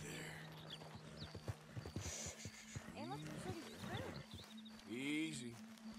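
A horse in Red Dead Redemption 2 snorts and whinnies, with hoof clops and rising and falling animal calls, under a low quiet voice.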